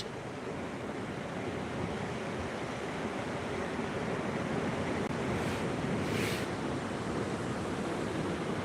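Continuous roar of sea waves breaking and washing in at the Cửa Việt coast in Vietnam under drizzle, steady and broad with no voices.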